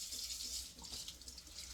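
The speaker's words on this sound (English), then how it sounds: "So I'm going to rinse this off." Raw chicken is rinsed under a running kitchen tap, a steady faint hiss of water splashing into the sink without pause.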